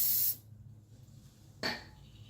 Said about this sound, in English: You can spray some silicone